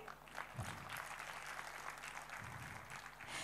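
An audience at a school annual function claps for the children, steady broad applause that goes on throughout, fairly quiet and distant with a few sharper claps standing out.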